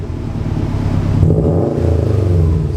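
A 2019 Subaru STI flat-four with a Remark muffler-delete exhaust revs hard nearby, a loud raspy rumble that swells and holds before settling back, with no talking over it.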